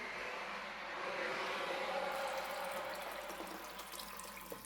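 Water runs steadily into a pot of cooking pork and yellow chiles for several seconds, a continuous rushing splash at close range with no voices.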